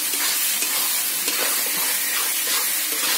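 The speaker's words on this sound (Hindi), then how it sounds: "अब मैं थोड़ी सी भूनूंगी" Ground masala sizzling in hot oil in a pan with chicken and chickpeas, a steady close crackling hiss with faint stirring scrapes throughout, no voices.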